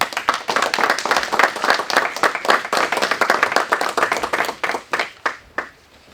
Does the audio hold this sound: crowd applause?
yes